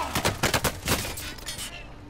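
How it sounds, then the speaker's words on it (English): Video game gunfire, a rapid burst of loud shots in quick succession that trails off into a faint tail, with a voice talking partly over it. "Oh, he's shooting me."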